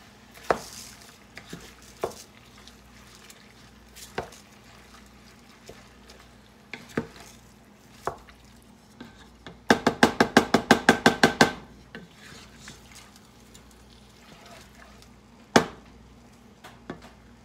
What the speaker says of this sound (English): we are supposed to add the rice and stir it around until it's lightly toasted